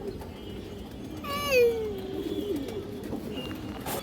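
Pigeon coos from an old-bloodline Muslidom pigeon, heard as a single short rising-and-falling call near the middle, fairly close, over a steady low background hum.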